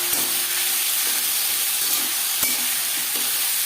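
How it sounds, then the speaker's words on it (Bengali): Chopped onion and tomato frying in panch phoron spice in a hot pan, a steady loud sizzle and hiss with a few light clicks of stirring, continuous and without voices. "15-20 সেকেন্ড 5 ফোড়ন ভেজে নেওয়ার পর দিয়ে দেব পেঁয়াজ কুচি, টমেটো।"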